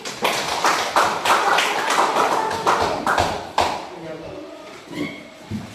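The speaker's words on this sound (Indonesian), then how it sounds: "Tepuk tangan untuk Taufik." A classroom of students claps together for a classmate, a dense burst of many hands close by that fades out over a few seconds, with a voice speaking near the end.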